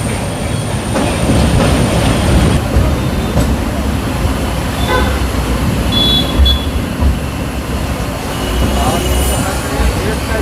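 The 17329 Express runs on rails between Hubballi and Vijayawada, making a loud, continuous rumble with rhythmic wheel clatter and a few thin metallic squeals. Voices carry faintly beneath it.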